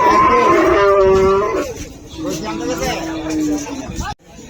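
Cattle low with long, drawn-out moos at a busy livestock market in Hazratpur Paragram, Bangladesh, heard close by over the steady hubbub of a chattering crowd.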